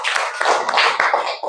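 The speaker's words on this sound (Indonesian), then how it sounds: "tepuk tangan untuk kelompok 1" Classroom applause for a student group, a short burst of many hands clapping irregularly and fairly close, with no voices over it.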